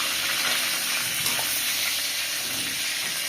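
Chops fry in hot oil, giving a steady, loud, even sizzle that carries on without a break and with no talking.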